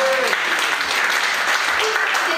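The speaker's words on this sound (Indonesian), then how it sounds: "Tepuk tangan." Clapping from a church congregation during an Indonesian worship service, a steady broadband patter that fills the whole moment, with a voice briefly audible through it.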